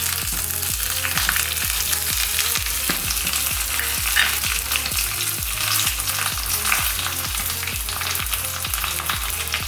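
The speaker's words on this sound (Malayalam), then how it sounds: "അതിലേക്ക് കറിവേപ്പിലയും കൂടി ഇട്ടിട്ട്" Curry leaves and dried red chilies crackle and sizzle in hot oil for a Kerala pulissery tempering, a steady close, loud frying hiss with rapid spattering pops and no talking.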